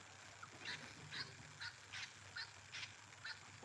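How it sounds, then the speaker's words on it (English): Noisy miner birds call outdoors near a red gum table, giving a string of short, bright, harsh chirps roughly every half second at moderate distance over a faint background hiss, with no talking. "Oh, these noisy miners. They're so naughty."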